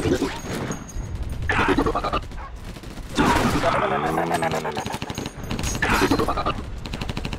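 Bursts of automatic gunfire and cover fire in Battle Los Angeles, loud rattling volleys broken by short pauses, with someone shouting over the shooting at points.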